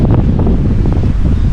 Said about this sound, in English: Some of these wind gusts are pretty intense